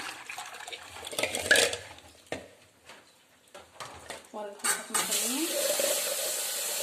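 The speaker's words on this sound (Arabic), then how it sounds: "اقوم انا ايه مغيره الميه اهي، احطها برضو ايه عشان هي سخنت" Kitchen tap water runs and splashes into a dish while water is changed to cool eggs. There are bursts of running and pouring, clatters of crockery, and a steady stream near the end, and someone talks through it.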